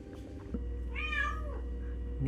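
A cat gives one mid-length meow, moderately loud, over a steady low background hum indoors, with a soft knock near the start.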